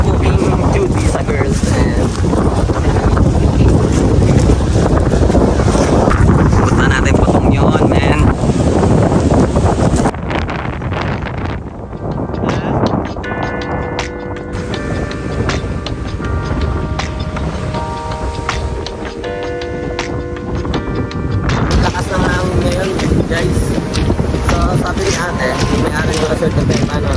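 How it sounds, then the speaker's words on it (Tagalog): Strong wind buffets the microphone at a beach-front car camping site in Lobo, Batangas, a loud continuous roar with surf-like rush, easing briefly midway while faint music and voices sit underneath. "Grabe yung hangin."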